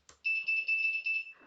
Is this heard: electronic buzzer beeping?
yes